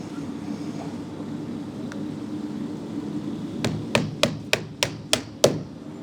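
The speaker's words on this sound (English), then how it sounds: "Throw a couple nails in it so it holds." Nails being hammered into a window frame while installing an Andersen A-Series window: seven sharp, evenly spaced strikes in a quick run near the end, close and loud, after a few seconds of quiet room noise.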